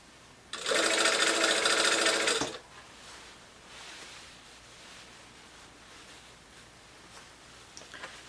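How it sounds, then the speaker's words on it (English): A domestic sewing machine runs in a fast, steady burst for about two seconds while stitching in a sleeve, loud and close, then stops, leaving quiet room tone with faint fabric handling. "pull that sleeve back as I sew"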